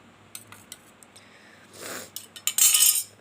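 Utensil clinks and scrapes against a bowl as ingredients are mixed in little by little for a healthy home remedy drink, with a few light taps followed by a louder stretch of clattering stirring near the end.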